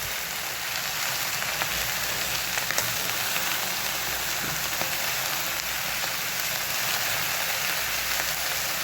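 Bitter gourd, potato and dried fish sizzle steadily in a frying pan while being stirred, giving a continuous crackling hiss with occasional small pops and a faint scrape of the spoon, at moderate level with no talking.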